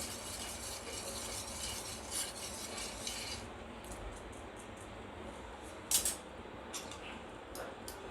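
A spoon stirs a sewai dessert mixture in a pan as it is slowly poured in. The scraping is faint and continuous at first, then gives way to sparse light clinks and taps.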